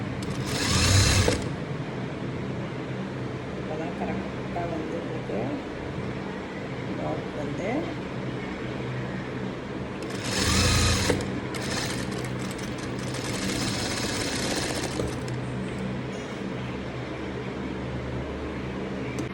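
Sewing machine stitching a blouse band, running in two short loud bursts against a steady background hum, with someone talking in Tamil through the clip.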